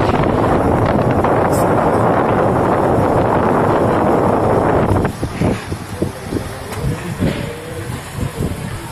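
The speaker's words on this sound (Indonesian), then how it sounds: "Angin puting beliung ini lalu bergerak menghampiri pemukiman warga." A whirlwind tears across a coastal island at Pulau Pecong, its wind roaring loud and steady against the microphone for several seconds before easing into gustier, broken rushes.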